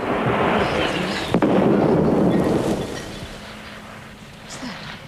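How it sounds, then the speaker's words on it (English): A heavy, continuous rumble of thunder and storm noise with a sharp crack early on, loud and sustained before slowly easing off. "Thunderstorm."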